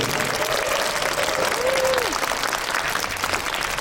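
Audience clapping at the opening ceremony of a national yoga competition in Korea, steady and fairly close, with a brief vocal sound over the applause partway through.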